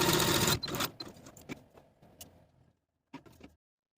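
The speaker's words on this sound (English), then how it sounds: "take your darts to the sewing machine and sew from the bottom edge to the point" A sewing machine stitches darts on a velvet dress, with a loud whirring burst at the start followed by quieter, intermittent mechanical clicks and a short final run before silence.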